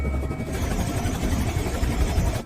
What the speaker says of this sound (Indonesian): helikopter yang membawa Valentin akhirnya datang saat Andrei bersiap untuk meninggalkan kapal